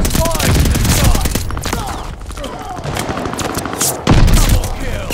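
Rapid automatic gunfire from Call of Duty Vanguard gameplay on Xbox Series X, dense bursts of shots running nearly continuously and loudly, with heavier impacts near the end and faint game voice audio mixed in.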